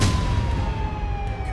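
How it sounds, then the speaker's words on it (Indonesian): A police car siren sounds in a steady, slowly falling wail over a dense low rumble, continuous and moderately loud for the whole moment. "Itu suara sirine mobil polisi."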